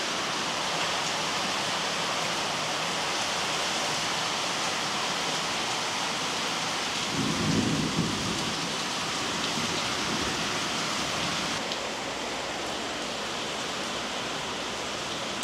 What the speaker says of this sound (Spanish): Con truenos y todo.